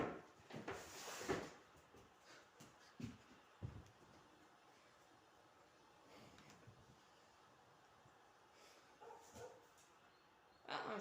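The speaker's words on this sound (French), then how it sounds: "Ah, un chien." A dog barks in a few short, faint bursts spread through an otherwise quiet stretch.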